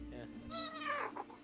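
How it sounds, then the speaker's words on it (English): A cat yowls in the background behind a tabletop role-playing game session, several drawn-out, wavering meows rising and falling over about a second, faint and somewhat distant. "That's a cat."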